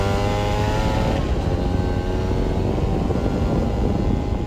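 A Honda NS-1 75cc two-stroke motorcycle engine revs up on a road and holds a loud, buzzing drone as it accelerates, steady and close throughout.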